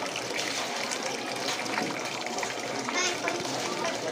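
Water runs steadily with a hissing, splashing trickle that doesn't let up, while children's voices chatter nearby in the background.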